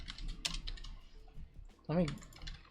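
Quick keystrokes tapped on a computer keyboard during a live baseball card break, a short burst of clicks near the start with someone talking over and around them.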